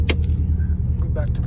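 A red 2005 Subaru WRX idles with its hood up, a low steady engine rumble close by, with a brief click and faint rustle over it.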